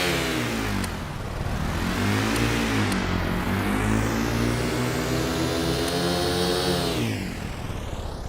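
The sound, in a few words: vehicle engine running in Stormworks video game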